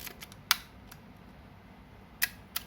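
Shutter of a Minolta Hi-matic 7 film camera firing, a few crisp, sharp mechanical clicks spaced irregularly in a quiet room, close to the microphone.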